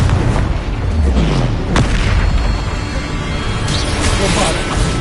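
Bombarda blasting spell in the Hogwarts Legacy video game, dense, loud explosive booms with heavy low rumble amid chaotic combat noise, while a voice speaks over it.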